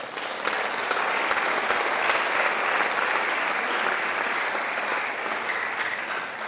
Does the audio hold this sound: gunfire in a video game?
no